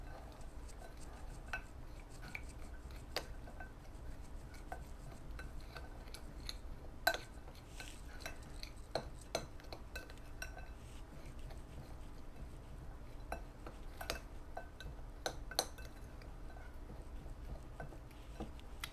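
Cheesecake crumble ingredients being stirred with oil in a bowl: faint, continuous scraping and light clinks of a utensil against the bowl, repeating unevenly for a long stretch, no talking.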